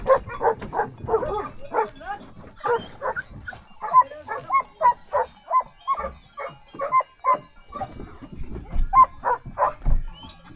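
Several shepherd dogs bark in quick repeated bursts during a wild boar hunt in farm fields, a rhythmic chorus at moderate distance with some higher yelps mixed in.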